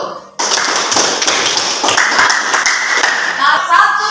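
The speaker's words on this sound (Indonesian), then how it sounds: "tepuk tangan buat kelompok 1." A classroom group gives a burst of hand clapping after a presentation. The claps are close and dense, steady for about four seconds, with voices mixed in.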